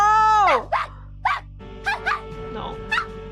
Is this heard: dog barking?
yes